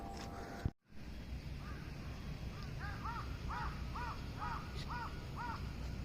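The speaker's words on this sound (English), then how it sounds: "Very misty morning with some crows." Crows caw in a misty morning at the Peace Memorial Park in Hiroshima, a steady string of about a dozen hoarse calls in short bursts, moderately distant over a constant low ambient hum.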